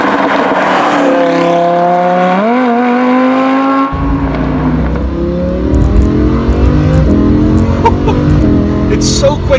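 A Lamborghini Huracan engine climbs in pitch as it accelerates, then drops sharply on an upshift and pulls hard again through the next gear, loud and close, with voices in the cabin.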